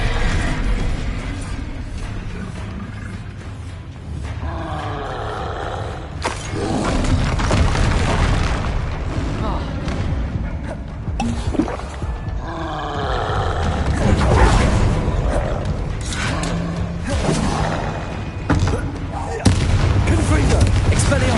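Spell blasts and explosions from combat in Hogwarts Legacy on PS5, a dense, continuous barrage of booms, crackles and mechanical clanks layered with spoken spell incantations throughout.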